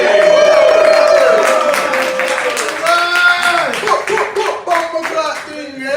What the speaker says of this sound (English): Round of applause for Matt Rivas,